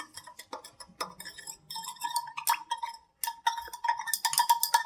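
A metal spoon stirring salt solution in a glass, with rapid, irregular clinking and tapping against the glass, close and bright, continuing throughout with a brief pause near the middle.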